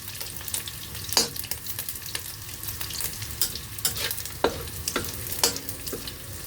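Chinese sausage stir-fried in a pan, with a steady crackling sizzle broken by sharp, repeated spatula scrapes and clanks against the pan.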